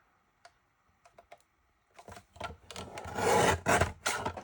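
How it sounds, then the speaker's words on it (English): Cardstock for a handmade card is cut diagonally from corner to corner, with a few light taps and then a close, scratchy rasp of blade drawn through the paper, loudest near the end. "this piece I'm going to turn on a diagonal and cut corner to corner."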